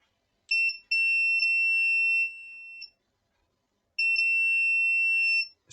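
A multimeter's continuity tester beeps while probing filters on a PS4 Slim console board: a shrill steady tone held about two seconds, briefly broken, then a second long beep after a pause.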